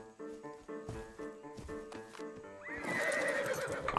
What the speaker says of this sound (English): Ooh, a level 70 horse.